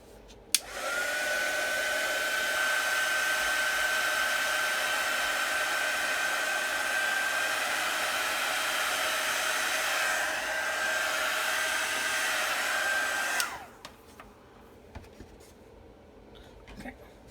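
Hair dryer blowing on a craft branch: a steady, loud, close whooshing hiss that runs for about thirteen seconds and then cuts off, leaving quiet room sound.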